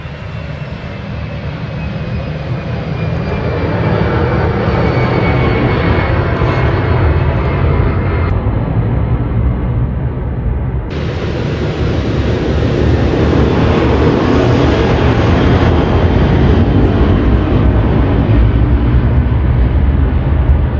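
Airplanes pass near an airport in Los Angeles with a loud, continuous jet roar that swells and holds across the whole stretch, a distant engine rumble filling the air without any talk.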